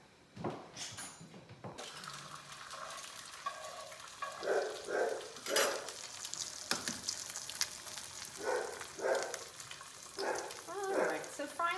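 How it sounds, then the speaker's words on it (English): Eggs fry one at a time in hot butter that is just starting to brown, giving a continuous close sizzle and crackle with occasional clinks of a pan and utensil. "so frying the eggs"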